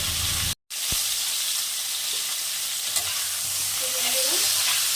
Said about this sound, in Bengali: ফুলকপিগুলোকে লাল লাল করে ভেজে নেব।